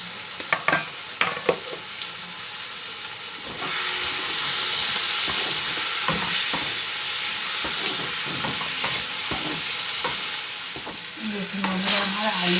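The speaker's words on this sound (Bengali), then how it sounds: "এখানে আমি ভাজা আলুগুলো দিয়ে আরেকটু কষিয়ে নেবো" Fried potatoes and pieces of katla fish sizzle steadily in a pan for a Bengali fish curry, with repeated scraping stirs and clinks of the spatula cutting through the loud, continuous frying hiss.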